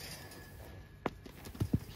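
Hooves of a five-year-old untouched range mare strike the ground in a few close, distinct thuds as she moves, spaced irregularly over a steady background hiss.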